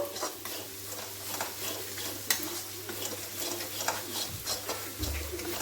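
Spice masala with a pinch of sugar being stirred and fried in a pan for a jackfruit cutlet filling, with steady soft scraping and light sizzling throughout and a low hum underneath.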